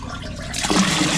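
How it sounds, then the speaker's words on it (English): A toilet flushes after a blocked drain has been cleared, the rush of water starting abruptly halfway through and surging loud and close to the end. "All right, flushing away."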